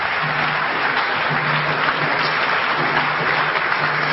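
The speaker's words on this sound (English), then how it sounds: "So give yourself a round of applause" A lecture audience applauds steadily and fairly loudly, a dense even wash of many hands clapping throughout with no voices over it.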